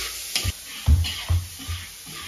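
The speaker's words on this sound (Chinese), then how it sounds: "蒜片下锅，炒一个六辣椒" Garlic slices and chili stir-fry in a hot pan in a rural Gansu home kitchen, a close sizzle broken by four or five thumping spatula strokes at an uneven rhythm.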